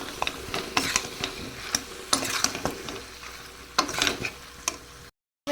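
Chicken masala stirred in a pan after turmeric and salt go in, a soft sizzle under irregular scraping and clattering spatula strokes, close and fairly loud, with no talking before a brief silence near the end.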